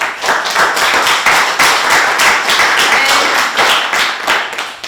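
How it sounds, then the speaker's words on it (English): An audience claps at a swearing-in ceremony for a police chief and assistant chief in the City of Mount Rainier, with dense, steady applause filling the room for the whole stretch before tapering at the end. "So give yourself a big round of applause, please."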